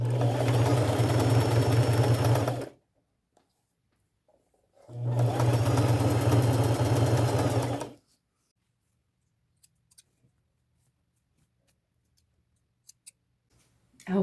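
A sewing machine stitches lace and an angel appliqué onto a chenille robe being made into a jacket, running loud and steady in two bursts of a few seconds each, separated by quiet pauses and small clicks.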